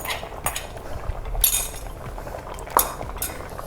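A metal spoon stirs a seven-vegetable kootu with chickpeas and black-eyed peas in a cooking pot, giving scattered clinks and scrapes against the pot with a few sharper knocks, close by and alone.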